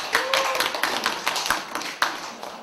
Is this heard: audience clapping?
yes